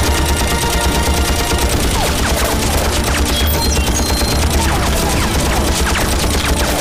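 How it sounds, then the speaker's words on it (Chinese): Dense, loud gunfire fills a film battle scene of Japanese troops attacking a village, with rapid continuous bursts like machine-gun fire and crashes that go on without a break. "枪声阵阵，火光四起"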